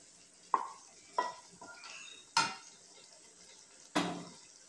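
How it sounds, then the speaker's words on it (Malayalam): Chinese potatoes (koorka) are tipped into a pot of boiling water for pickle and stirred, giving a few separate splashing clatters and scrapes over a low simmering background, with no talking. "വെള്ളം തിളച്ചു തുടങ്ങി, നമുക്കിതിലേക്ക് കൂർക്ക ചേർക്കാം."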